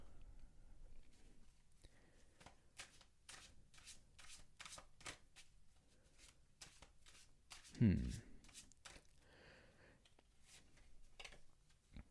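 Tarot cards are shuffled and drawn by hand, producing soft, quiet riffling flicks and papery taps in an irregular rhythm, with one louder thump midway and a voice faintly present at times.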